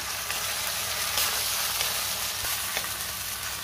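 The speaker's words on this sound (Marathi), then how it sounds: "पुन्हा छान 2 ते 3 मिनिटं मी व्यवस्थित परतून घेणार आहे हे वाटण" Tomato, coriander and ginger-garlic masala paste sautéing in a pan for chicken sukka, a steady close sizzle and frying crackle with occasional stirring scrapes, no talk.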